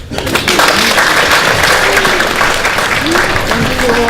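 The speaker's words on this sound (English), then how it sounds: "And we applaud you." Steady, loud applause from a large crowd at a quadrille dance event fills the whole stretch, with a few voices calling out faintly underneath.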